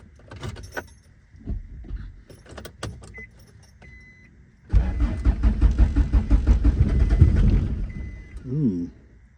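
A Honda Civic EF is started up after some keys jangle and scattered clicks and knocks, then the engine cranks and catches into a loud, rough, pulsing run for a few seconds before settling.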